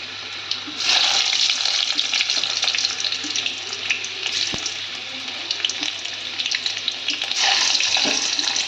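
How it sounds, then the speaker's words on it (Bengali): Chopped garlic frying in hot oil for a dhaba-style egg tarka makes a loud, steady, close hissing sizzle with bursts of crackle throughout, and no voices are heard. "তেলটা আমার গরম হয়ে গেছে। প্রথমেই আমি রসুন কুচিটা দেব।"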